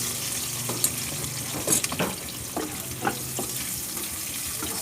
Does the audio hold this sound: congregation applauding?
no